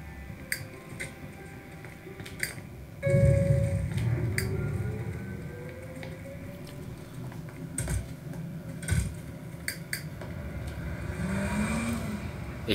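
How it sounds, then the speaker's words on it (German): A car driving in The Sims 3, with a low engine hum and a rising rev mixed under frequent keyboard clicks and typing taps. "Mal gucken, mit wessen Auto sie fahren."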